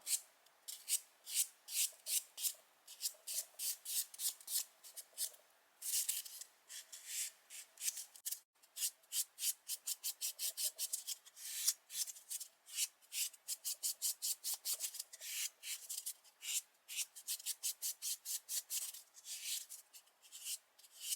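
Sanding file buffing a fingernail surface during a self manicure with a nail care kit, rapid rhythmic rasping strokes in quick bursts with short pauses, close and soft, no talk.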